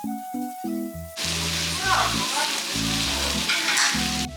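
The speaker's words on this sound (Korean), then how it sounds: "구우시는 와중에 중간에 또 잘라서 불판에 얹어 주셨어요" Eel sizzling on a hot grill plate at a local restaurant, a constant close crackling sizzle with music playing underneath.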